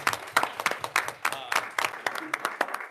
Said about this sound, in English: If we could give them both a round of applause.